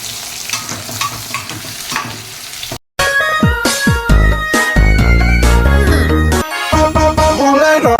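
Onions frying in hot oil in a home kitchen, a steady sizzle with stirring, overlaid by loud music in the second half.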